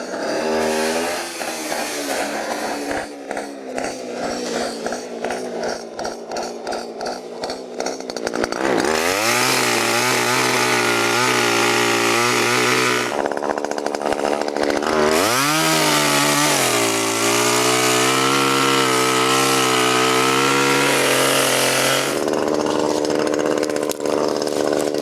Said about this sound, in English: So now I need to cut this in pieces with the chainsaw